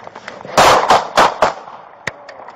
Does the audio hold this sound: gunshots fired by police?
yes